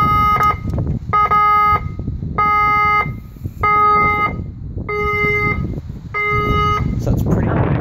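A homemade fire alarm evacuation panel sounds a loud, repeating electronic tone in six even bursts with short gaps, played over a low background rumble and faint voices.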